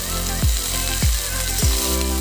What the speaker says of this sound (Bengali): নুন দিয়ে একটু ভালো করে মিশিয়ে নেব, মিশিয়ে নিয়ে একটু ভেজে নিয়ে